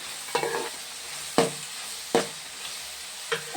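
Green chillies frying in a pan with a soft sizzle, broken by a few sharp scrapes and knocks of stirring, close and fairly quiet with no one speaking.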